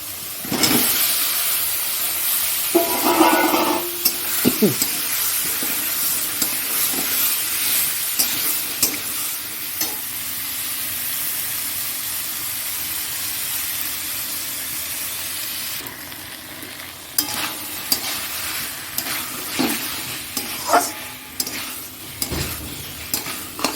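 Potatoes dropped into a hot pan of oil and stirred, a steady sizzle of frying with intermittent scrapes and clatters of a utensil against the pan.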